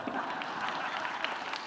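A live audience at a climate anxiety talk claps together, a dense, steady patter of many hands holding even for under two seconds with a faint murmur of voices underneath.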